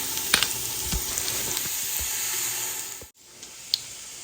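Chili powder, cumin and smoked paprika sizzling together in a pot for veggie chili, a dense hot frying hiss with a few stirring scrapes and a brief drop in the sound near the end.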